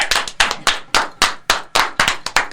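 A group of people clapping hands together in a rhythmic pattern, loud and close, several sharp claps in quick repeating bursts in a podcast studio.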